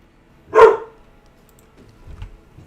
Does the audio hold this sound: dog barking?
yes